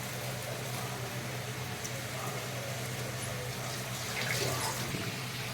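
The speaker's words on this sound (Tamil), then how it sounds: "தண்ணி நல்லா வடித்து போடணும்." Water drains steadily from boiled rice for mutton biryani, giving a constant soft wash and pour with a slight swell near the end.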